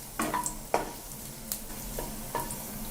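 Steady sizzling of beans and carrots frying in hot oil, with a few clinks of a utensil stirring the pan, close up and without speech.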